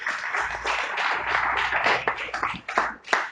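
A church congregation claps in a burst of uneven, overlapping hand claps that rise and fall in loudness, with some louder individual claps standing out near the end.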